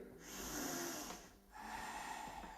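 A deep, steady inhale drawn through the nose while holding a seated yoga twist, breathy and close, followed by a short pause and a second long breath in.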